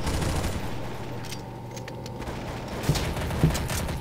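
Gunfire in Counter-Strike: Source, a close, dense fusillade of rapid game shots with a couple of sharper cracks near the end.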